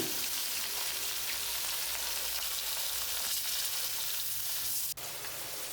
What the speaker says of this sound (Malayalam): പപ്പടം കാച്ചിൽ കഴിഞ്ഞ് ഇനി മീൻ വറവായി.